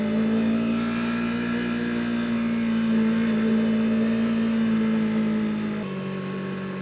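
A beginner sport bike ridden along a gravel path gives a steady, close engine drone that holds an even pitch, then drops slightly and quiets near the end.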